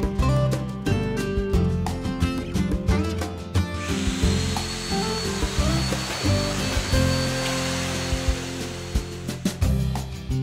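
A Woodpeckers MortiseMatch jig guiding a router as it cuts a mortise into a wooden workpiece, a loud, steady high-pitched motor whine with shifting tones as the bit works through the wood.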